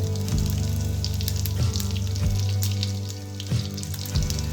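Mustard seeds, seasoning and garlic sizzling and crackling in hot oil in a pan for a chutney tempering, a steady close, loud fry with sharp pops scattered throughout.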